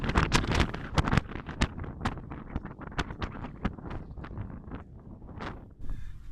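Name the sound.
strong wind on the west coast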